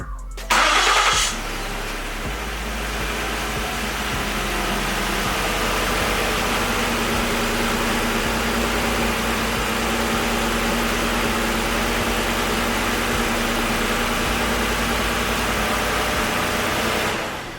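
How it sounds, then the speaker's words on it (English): A 2011–2019 Ford Explorer engine cranks and catches after a short whir, then settles into a steady, loud, close idle hum that runs on for over fifteen seconds before fading. "you can go ahead and at this point start your vehicle"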